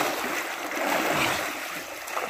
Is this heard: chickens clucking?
no